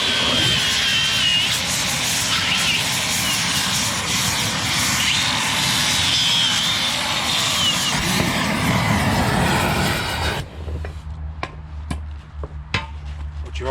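An angle grinder grinds a worn Bobcat 753 attachment pin smooth, a loud, steady, rough whine that runs for about ten seconds, then cuts off and leaves faint clicks and knocks.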